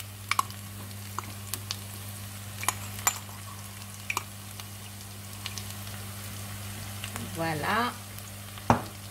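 Onions fry in a pan as peanut paste is added, a soft steady sizzle with scattered clicks and scrapes of stirring, a squishy stir near the end and a brief spoken word.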